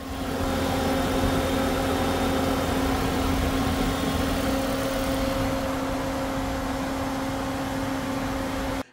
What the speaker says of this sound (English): Let's take a listen to the engine to hear how the engine sounds at idle.